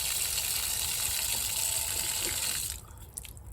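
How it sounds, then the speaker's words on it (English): Water gushes steadily from an exterior hose bib installed for drip irrigation, a close continuous rushing flow that cuts off abruptly near the end, leaving a few faint drips. "That's supposed to happen so that all the water inside drains out."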